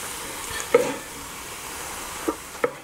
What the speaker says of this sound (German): Werden dann im Anschluss daran das restliche Gehackte schön anbraten, dass es einigermaßen krümelig ist.